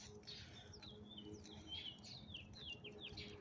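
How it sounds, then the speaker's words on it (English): Small birds chirp and tweet in repeated quick calls along a nature walk with a dog, moderately near and steady over a soft outdoor background hum. "You hear those birds?"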